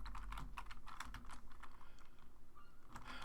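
Rapid typing on a computer keyboard, a steady run of close, crisp key clicks with no talk.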